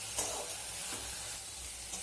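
A mash of leaves being stirred in a hot pan to cook off its water, a continuous close hiss of steam and sizzle with faint scraping strokes.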